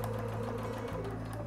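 A sewing machine stitches elastic onto a fabric seam, running in a steady continuous motor hum with rapid needle rhythm, close and loud, with a brief dip just before the end.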